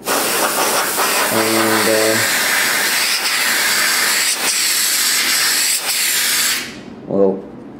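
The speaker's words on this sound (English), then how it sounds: "So here's some computer dust off from Costco." Canned compressed-air duster from Costco blasting a slide scanner tray, a loud continuous close hiss lasting several seconds with short pulses, ending in a brief spoken word.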